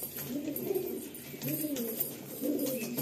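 Pigeons of the Kaldum line at a breeder's sale in Kolkata coo in three rounded, repeating low phrases, close and steady with no talk over them.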